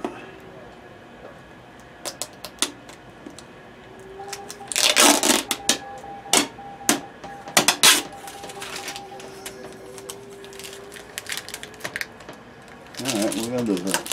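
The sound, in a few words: peeling tape off a new Acer laptop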